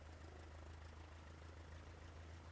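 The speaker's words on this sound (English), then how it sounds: "Can you hear the propeller change, the engine sound? It's speeded up." A propeller engine in Microsoft Flight Simulator 2020 hums at a steady low drone in snowy, bitterly cold conditions, faint and continuous with no talk.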